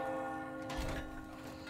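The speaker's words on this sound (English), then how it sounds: "The bell?" A church bell tolls once in the Resident Evil 4 demo, its ringing hum sustained and fading slowly against a steady low background drone, with no voices over it.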